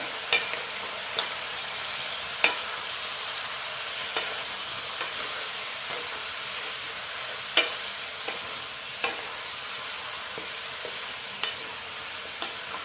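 Turmeric powder fries in oil for chicken kurma, a steady quiet sizzle broken by occasional sharp stirring clicks of a spoon against the pan, near and without voices.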